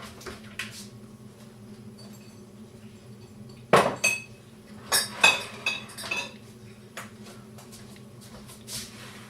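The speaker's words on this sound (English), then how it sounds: "now you need a glass jar." Clinks and knocks of a large IKEA glass jar being handled in a home kitchen during kimchi making, a few sharp glassy taps and a louder clatter near the middle, close by over a quiet room hum.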